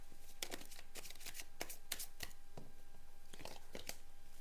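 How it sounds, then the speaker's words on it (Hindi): Two tarot card decks being shuffled close up, with bursts of quick riffling and flicking spaced by brief pauses, fairly quiet and with no talking. "सो यहाँ पर मैं दोनों ही कार्ड्स को, डेक्स को शफल कर देती हूँ आपके सामने।"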